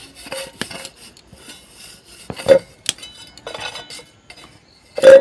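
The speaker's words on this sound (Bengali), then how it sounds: "এক চামচ সাদা তেল ভালো করে আমি তেলটাকে গামলাতে মাখিয়ে নেব" A spoon scrapes and taps around a mixing bowl while a spoonful of white oil is spread over its inside, sparse clinks and rubbing strokes with short quiet pauses.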